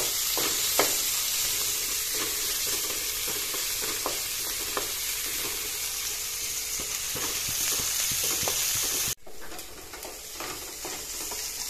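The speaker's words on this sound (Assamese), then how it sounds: "ইয়াতে দি দিছো পিঁয়াজখিনি পিঁয়াজখিনি অলপ ৰং চুমুৱা হ'বলৈ দি" Chopped onions fry steadily in a pan for okra and potato, a close, continuous sizzle broken by scrapes of a stirring spoon, with the hiss dropping off abruptly near the end.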